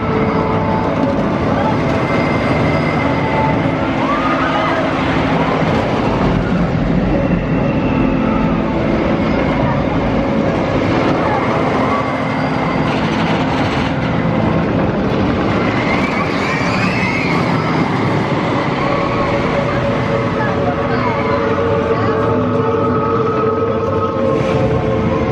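Wickerman wooden roller coaster at Alton Towers, a steady rumbling roar of the train running over the track, loud and continuous for the whole ride with rattling and a few faint screams and voices mixed in.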